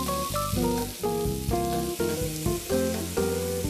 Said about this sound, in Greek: σε ένα τηγάνι που έχει κάψει το λάδι τα τηγανίζω